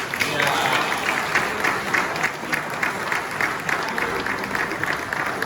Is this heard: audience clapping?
yes